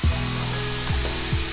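Steady power-tool whir from grinding metal on a custom Honda Nauty Dax motorcycle part, running continuously with a few pitch dips as the load changes; no talking.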